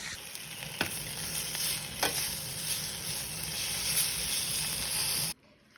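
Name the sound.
prosciutto frying and sizzling in a pan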